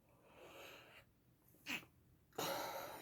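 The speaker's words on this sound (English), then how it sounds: "Excuse me, I'm going to sneeze." A quiet indoor sneeze from someone with allergies, with a short sharp burst followed by a louder breathy release, framed by soft breaths and sniffing.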